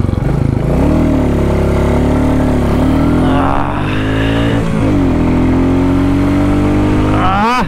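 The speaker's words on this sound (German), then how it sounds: "wir starten auch hier zur obligatorischen Beschleunigung von 0 auf 100 mit der Royal Enfield Classic" Royal Enfield Classic 350 single-cylinder motorcycle accelerating hard from a standstill to 100 km/h, loud and close, the engine note climbing through several gears with brief dips at each shift.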